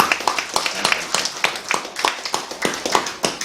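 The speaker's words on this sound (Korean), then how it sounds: "우리 청년들에게 우리 박수로 한번 격려할까요?" Church congregation at a Sunday service claps to encourage the youth group, a steady run of distinct hand claps from a modest crowd, fairly close and moderately loud.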